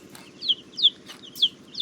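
Young chicks that are just starting to grow wing feathers, being raised on starter feed, give a series of short, high cheeping calls, about four distinct peeps over a soft, steady low background.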